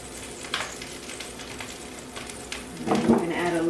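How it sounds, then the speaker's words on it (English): Food searing on both sides in a hot oiled pan, a low steady sizzle with occasional scrapes and a louder burst of frying near the end. "So you just sear both sides."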